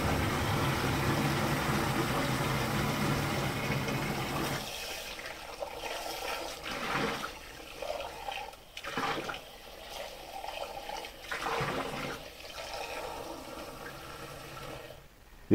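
Village tap water running at strong pressure, a steady loud rushing gush for about five seconds that then drops to a thinner, uneven flow with gurgles and pauses.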